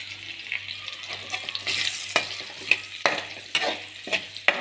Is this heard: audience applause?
no